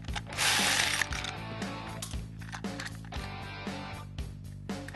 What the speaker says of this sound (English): We're going to take a number 2 Phillips tip and remove the screws on the back side of the turn signal assembly.